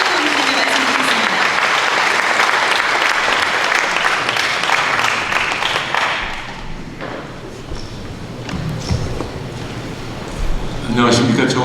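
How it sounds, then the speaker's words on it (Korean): Loud, dense audience applause at a forum held in a church fills the first six seconds, then fades as the clapping thins out into scattered claps and room noise. "박수로 환영해 주시면"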